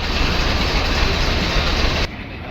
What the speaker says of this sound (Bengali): রাধিকাপুর স্টেশন এসে পৌঁছায় ভারতের পণ্যবাহী ট্রেন